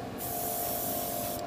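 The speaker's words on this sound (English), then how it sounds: "when you finish spraying, you want to release any air from the airbrush" An airbrush sprays gloss paint onto a large-scale Gundam RX-78-2 model kit frame, giving a steady, close, loud hiss of air and paint that runs continuously with a brief change near the start and end.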